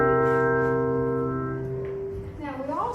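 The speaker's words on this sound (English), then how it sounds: "we also have our tone chimes here today, and they sound like this" Tone chimes ring out together as a sustained chord of steady, clear tones that slowly fade over a few seconds, followed by a softer wavering ring near the end, heard alone without talk.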